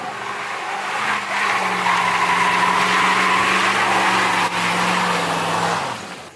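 A car doing donuts, its engine roaring steadily near redline with tires squealing, loud and close, then the sound fades out at the end.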